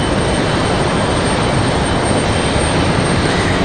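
An airliner departing Raleigh Durham airport gives a loud, steady broadband jet roar that holds evenly throughout, with no voices.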